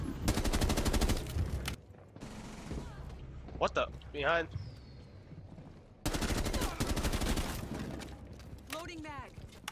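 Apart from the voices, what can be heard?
gunfire in the video game Rainbow Six Siege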